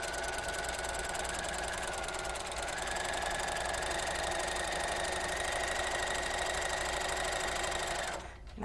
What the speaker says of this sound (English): I'm going to come right off the edge there, and I'm going to keep sewing for another 10 inches.